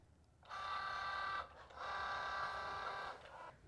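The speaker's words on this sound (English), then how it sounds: "And then it will start cutting on our machine." A Cricut Joy cutting machine cuts print-then-cut stickers with a steady mechanical whirring hum in two runs of about a second and a half each, split by a brief pause, close and fairly quiet.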